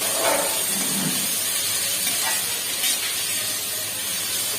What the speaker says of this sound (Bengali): এবারে আলুগুলোকে দিয়ে দেবো, ক্যাপসিকাম গুলো দিয়ে দেবো